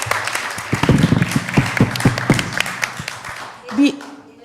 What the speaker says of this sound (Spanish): le damos entonces un aplauso aquí a nuestra invitada